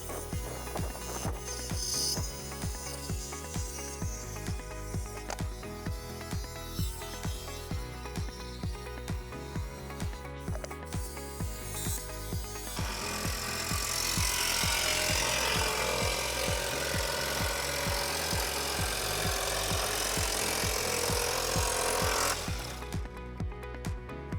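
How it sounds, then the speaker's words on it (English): Saw cutting a large hole in a sand filter tank, a loud, continuous rattling and grinding close up, growing harsher and hissier in the second half before stopping abruptly near the end. "Now I'm gonna take my saw and I'm just gonna start cutting a big gaping hole in this thing"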